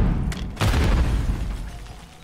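A grenade goes off in the Call of Duty Modern Warfare 3 video game: a heavy, loud blast that jumps in sharply, then rumbles and fades away with no talking.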